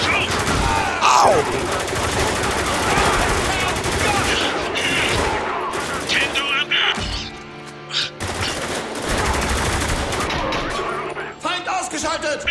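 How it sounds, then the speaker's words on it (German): Heavy gunfire rages in a firefight in Spec Ops: The Line. Loud overlapping machine-gun bursts and impacts continue almost without a break, dip briefly in the middle, then swell again with scattered crashes. "Und der schwere Beschuss!"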